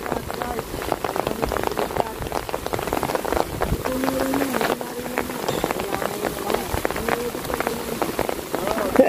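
Steady rain pattering outdoors on surfaces near a fishing spot, a dense continuous hiss of drops with scattered louder splashes, while people talk intermittently over it.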